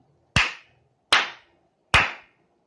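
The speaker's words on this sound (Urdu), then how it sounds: "پہلی جماعت میں آپ تمام بچوں کا ہم تالی بجا کر استقبال کرتے ہیں۔" Three single sharp hand claps spaced evenly apart, close and distinct against near silence, given to welcome first-grade children into their class.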